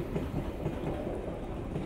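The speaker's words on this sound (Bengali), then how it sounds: "আর এই দেখো লোকাল ট্রেন যাচ্ছে, দেখতে পাচ্ছ।" A local train passing nearby, a steady low rumble with faint rhythmic rail clatter, heard at moderate distance with no speech.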